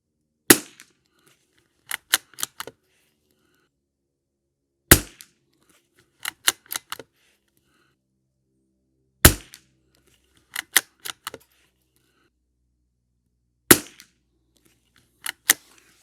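Sharp, close gunshots from a Savage MKII TR rimfire rifle at a shooting range, fired in spaced groups of single cracks and quick clusters with silence between.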